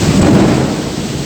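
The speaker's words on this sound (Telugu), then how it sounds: "చూడండి ఎంత వర్షం పడుతుందో." Heavy rain pours down steadily and loudly in a village downpour, with deep thunder rumbling underneath the dense, continuous hiss.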